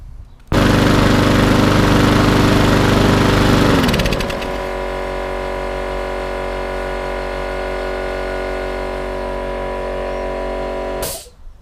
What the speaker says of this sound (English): So I just want to literally fire this engine up.